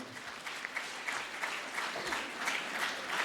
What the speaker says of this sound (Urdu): پہلے ان کے لیے آپ بھرپور تالیاں بجائیں